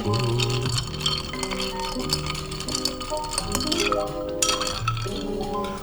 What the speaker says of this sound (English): we're gonna take our bar spoon, fill this with ice, and we wanna stir to chill